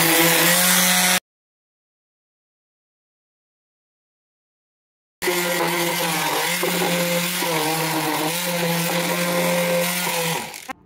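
A power sander works a plywood table with trim, giving a loud, steady whine that starts, cuts out for several seconds of silence, then resumes and runs to the end. Nobody speaks.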